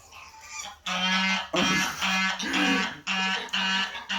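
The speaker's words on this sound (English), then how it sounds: "One of those geese just like literally came up to Bingo." Loud goose honks in a series of repeated, harmonic calls, several bursts close together with brief gaps, near and prominent.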